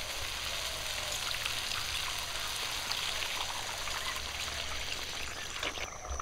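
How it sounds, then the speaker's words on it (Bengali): Water pours into a cooking pot of sautéed pumpkin in a continuous, steady trickling stream for several seconds, fairly quiet and close, with no voices. "দিয়ে দিচ্ছি জল।"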